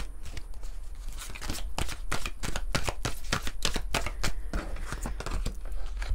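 Moon oracle cards are shuffled by hand in a continuous, close run of crisp riffling and flicking slaps, dense and fairly loud for several seconds with no speech.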